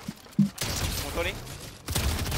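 Gunfire in Fortnite, a few short bursts of shots with a voice talking over part of it.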